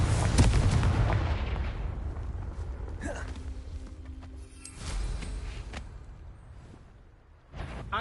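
Confringo blasting spells erupt in the Hogwarts Legacy game: a heavy, booming explosion opens loud and decays slowly, followed by further sharper blasts and thuds, with occasional voices in the fight.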